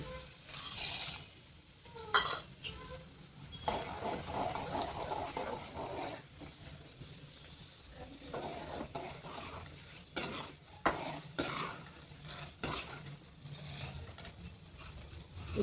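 Chana dal dropped into hot oil with mustard seeds for an Avrekallu chitranna tempering, stirred in a pan: close scraping and clattering spoon strokes over a soft, steady sizzle, with no talking.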